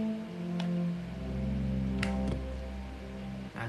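A deep synth bass line from an ST UV Workstation plugin preset in FL Studio holds low sustained notes, changing pitch a few times, with faint clicks and soft tones above.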